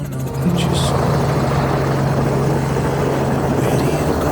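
A helicopter flies across to a remote island, its loud, steady rotor thrum and engine whine filling the cabin throughout.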